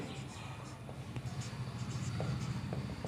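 A pen scratches across paper while a geometry solution on congruent triangles is written out, making soft, continuous scraping strokes close to the microphone with small pauses between them.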